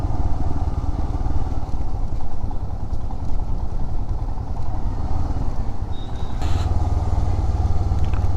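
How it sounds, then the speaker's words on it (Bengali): A motorcycle engine braking on a downhill mountain road near Mirik Lake, a steady close drone with throttle closed that runs unbroken throughout, with a brief higher whine near the end. "তো এইভাবেই ইঞ্জিন ব্রেকিং করে করেই নামতে হবে"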